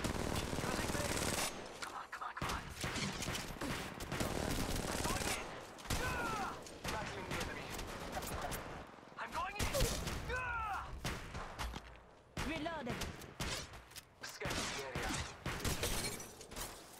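Gunfire in Apex Legends Mobile comes as dense, loud bursts of automatic weapons fire across a hectic battle. Short pauses break the shooting, and chirping effect sounds run through the mix.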